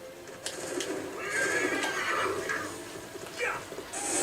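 A horse in the video game Assassin's Creed 3 whinnies in a bright, drawn-out neigh over a steady background hum, with faint game ambience around it.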